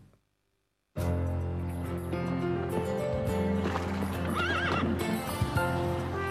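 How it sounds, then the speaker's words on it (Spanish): Racehorses gallop with loud, rapid hoofbeats and neigh sharply. The sound bursts in after a second of silence and stays close and busy to the end. "La historia de las carreras de caballos,"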